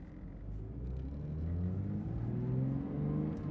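A manual Porsche GT3 pulls out of a parking lot, its engine a steady low rumble with rising harmonic tones as it accelerates gently and continuously, fairly close and without talk.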